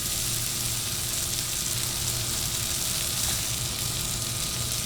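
Mushrooms sizzling in oil and butter on a Blackstone 22-inch griddle beside ribeye steaks, a loud, steady, even frying hiss that runs unbroken throughout.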